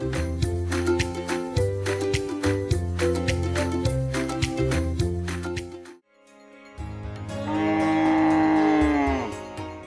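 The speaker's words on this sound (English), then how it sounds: "The Goshala is home to 100 cows and their calves." Cows and calves at a goshala (cow shelter) at the Ramakrishna Mission Sevashrama in Vrindavan, lowing in loud, drawn-out moos, with a brief pause before one long, rising call.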